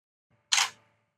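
A single-lens reflex camera fires one shutter, its mirror flipping up and snapping back in a single brief, crisp mechanical clack close by, with near silence before and after.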